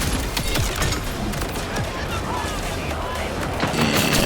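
Rapid bursts of gunfire from the Potato Thrower IV, a legendary assault rifle in Borderlands 4, roar in dense, loud volleys with explosive impacts throughout a chaotic co-op fight, with voices underneath.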